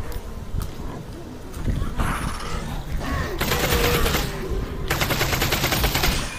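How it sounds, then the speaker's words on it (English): Submachine gun fire in Half-Life: Alyx, loud bursts of rapid shots in a chaotic game mix with busy broadband noise and mechanical clatter, building in intensity over the final seconds. "I like to use the SMG to quickly deal with those."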